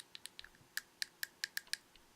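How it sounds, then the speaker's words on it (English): Fidget cube side buttons clicked one after another, a run of about ten sharp, quiet plastic clicks in an uneven rhythm, some slightly louder than others, close up with no talking. "some of them click a little bit louder than others"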